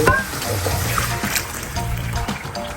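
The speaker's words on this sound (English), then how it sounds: "Now we're going to add some water." Water is poured into a pot of dal and ground beef, a steady close trickle and splash running throughout with a low background hum and occasional clatter.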